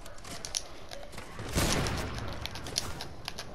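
Video game gunfire crackles throughout: scattered distant shots and pops, with one heavier, louder volley near the middle, and no talk over it.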